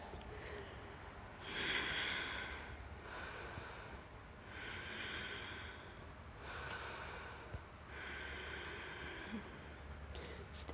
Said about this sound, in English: Strong breath.